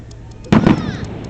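Fireworks burst on a July 4th night in Vineland, New Jersey: one loud, close boom followed by a second crackling report and a fading rumble, over a low background murmur.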